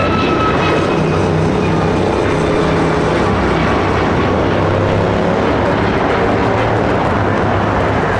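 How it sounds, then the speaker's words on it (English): A United Airlines Boeing 737 MAX 9 takes off from Los Angeles International Airport, a loud, continuous engine roar with a dense low rumble that holds steady and close throughout. "This is United Airlines 1571 taking off to Houston Intercontinental on the MAX 9"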